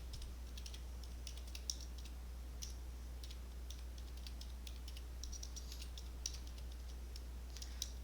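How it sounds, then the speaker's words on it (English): Quiet, quick tapping of calculator keys as numbers are entered, a steady run of small clicks over a low electrical hum. "now I'm going to type all of this into a calculator"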